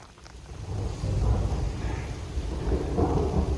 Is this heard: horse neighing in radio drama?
no